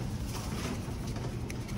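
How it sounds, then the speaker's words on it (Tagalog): Pet pigeons coo softly and continuously near a rooftop loft trapdoor on a hot day, a close, murmuring chorus of birds with light rustling and no talk. "Yan, yun yung mga ibon natin par."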